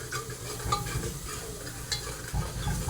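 Chutney simmers in a pan while a spoon stirs it, giving soft scraping strokes over a quiet, continuous bubbling sizzle, close up with no talking.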